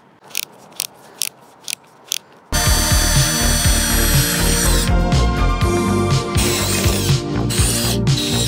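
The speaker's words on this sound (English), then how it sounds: "I'm gonna drill holes on this side of the aluminum" Several sharp clicks, then a drill grinds loudly and continuously through aluminum for a roof rack on a 1998 Toyota Tacoma, its pitch wavering as pressure changes, with brief dips near the end.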